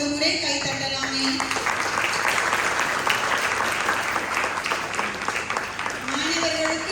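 An audience applauds after a students' children's drama in Malaysia: dense, sustained clapping fills the hall, with a person speaking over it at the start and again at the end.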